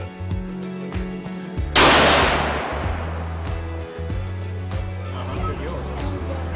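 A single loud gunshot cracks at an outdoor shooting range, followed by a long decaying echo, with people talking before and after it.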